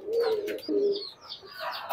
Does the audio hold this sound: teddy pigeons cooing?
yes